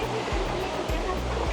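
River water rushes steadily and close by during a river crossing near a waterfall on a forest trek in Kotabagh, a dense broadband roar with low, irregular thumps beneath.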